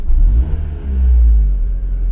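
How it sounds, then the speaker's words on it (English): A Volkswagen car engine hums low and heavy, its revs rising into a deeper, louder rumble, close by with no talking. "there we go, the revs are going up"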